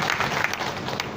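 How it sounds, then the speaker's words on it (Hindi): Brief burst of audience applause welcoming a speaker at a political gathering in Navapur, a dense patter of many hands heard only for a moment. "तालियां बजाकर इनका भी स्वागत करें।"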